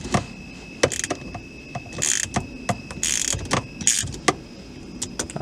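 Ratchet clicking in short bursts while turning a bolt during an Audi B8/8.5 short throw shifter install, close and crisp, with metallic clinks and brief pauses between strokes.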